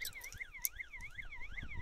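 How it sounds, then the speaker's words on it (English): A Mongoose M60 battery-backup alarm siren wails in a steady, rapid up-and-down sweep, repeating about every quarter second. It sounds somewhat distant and fairly quiet, with faint background clatter. "Actually, it's really a Mongoose M60 battery backup siren"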